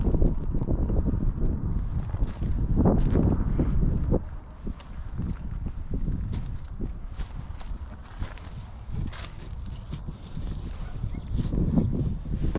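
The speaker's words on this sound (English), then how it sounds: "it's super windy" Strong gusty wind buffeting the microphone at an RV park campsite in Cortez, Colorado, a loud rumbling roar that surges and eases, with faint footsteps and knocks underneath.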